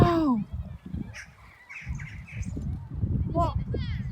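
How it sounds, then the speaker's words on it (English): A flock of birds calls at Stonehenge with repeated harsh squawks and chirps, some close, over wind and crowd noise, while people talk throughout. "Look at all the birds."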